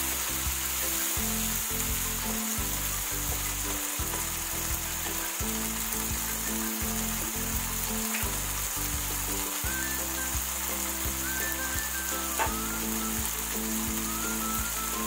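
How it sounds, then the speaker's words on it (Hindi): Boiled potatoes fry in onion-tomato masala, a soft continuous sizzle with light stirring under background music. "बस ये आलू हम थोड़ी सी देर भूनेंगे और हमारा सालन तैयार।"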